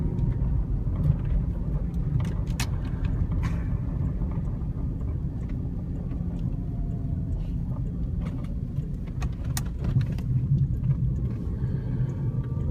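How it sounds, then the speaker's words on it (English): A V6 car engine accelerating drones steadily under a constant low road rumble, heard from inside the vehicle, with no voices. "This car doesn't have anywhere near the pickup of the turbo cars, even though it's a V6."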